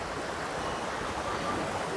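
River water flowing near an abandoned forest house at the foot of a mountainside, a close, even rush of current with no breaks and no talking.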